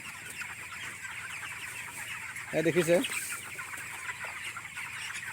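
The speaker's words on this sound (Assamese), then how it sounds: "এই 3000 মুৰ্গী আছে।" A short burst of chicken clucking from a poultry shed of about 3000 birds rises over a steady hum of background noise, with a person speaking nearby.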